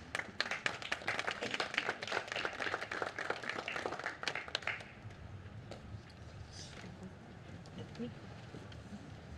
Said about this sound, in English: please give a huge round of applause for each graduate as their name is called.